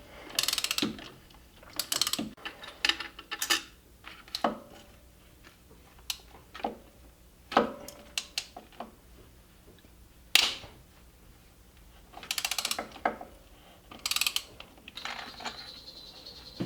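Ratchet clicking in short bursts while backing out coil pack screws on a 2001 Jeep Cherokee XJ, with separate runs of rapid close clicks broken by pauses and clinks of the wrench.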